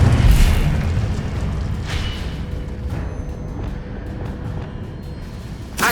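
A fire spell blast in the wizarding video game Hogwarts Legacy, a loud booming burst at the start that rolls into a sustained fiery rumble, fading slightly before another sharp hit at the end.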